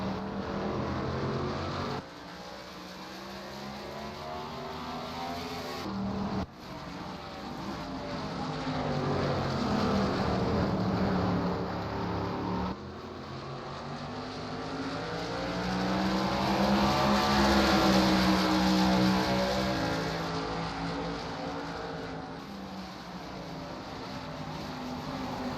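Race cars at Watkins Glen in a 2009 MG Cup Series race roar past in a continuous engine drone, pitch swelling and falling as cars approach and pass, loud and close with no voices.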